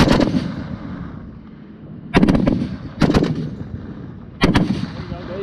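An M2 .50 caliber machine gun fires on a range toward a target about 600 meters out, sounding in four separate heavy bursts of booming, close reports with quieter outdoor gaps between them.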